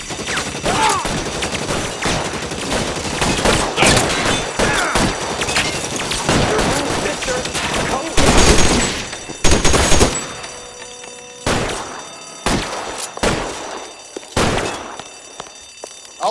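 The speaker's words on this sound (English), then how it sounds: "I'll lay down some suppression fire." Gunfire crackles through a shootout in the L.A. Noire video game, with dense bursts of rapid shots giving way to separate loud volleys and short pauses between them.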